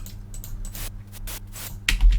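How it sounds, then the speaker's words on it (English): White noise generated in FL Studio music production software sounds as a broadband hiss that swells and cuts in irregular bursts, moderately loud and alone. "So this is just a white noise."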